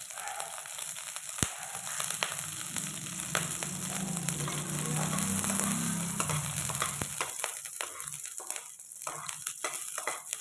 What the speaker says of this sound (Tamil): எண்ணெய் காஞ்சதும் பூண்டையும் பச்சை மிளகாயும் அதோட சேர்த்துக்கலாம்.